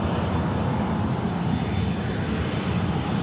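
A jet airliner takes off from runway 34 left at Sydney Airport in the evening, a loud, continuous broad engine roar that holds steady and close, with no voices.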